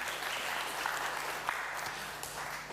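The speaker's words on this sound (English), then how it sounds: "A round of applause," Moderate applause from students at a university career and internship fair, a steady wash of clapping with a few sharper claps and faint background voices.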